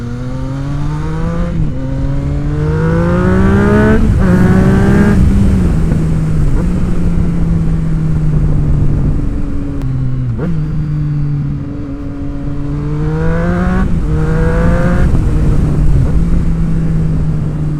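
A Triumph triple motorcycle fitted with an aftermarket exhaust, heard loud and close as the engine revs up and drops back in repeated pulls through the gears, its rasping note rising and falling.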